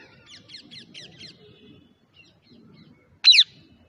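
A pet parrot indoors gives a quick run of five thin chirps, then quieter calls, and then one loud, sharp squawk up close, with no one talking.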